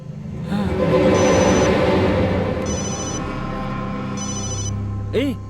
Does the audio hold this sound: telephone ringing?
yes